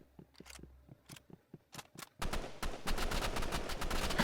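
Roblox gunfire begins as scattered single sharp shots, then turns into dense rapid bursts that grow louder and continue without a break, with no voices in between.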